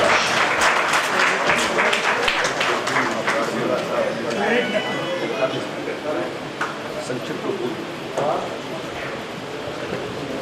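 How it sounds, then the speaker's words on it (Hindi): Award ceremony audience clapping, with a burst of applause up front that thins into scattered claps, while voices murmur and talk underneath. "बिल्कुल आपकी तालियां बस और कार्यक्रम को आगे बढ़ाएं।"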